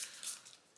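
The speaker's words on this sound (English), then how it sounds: "So we're going to give it a good shuffle" A deck of DC Super Heroes United game cards is shuffled in quick, faint papery riffles and flicks, with short crisp bursts close to the microphone.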